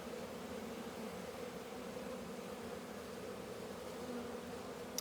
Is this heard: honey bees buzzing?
yes